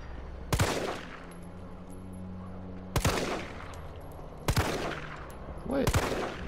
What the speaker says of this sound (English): I'm gonna shoot the furthest one first.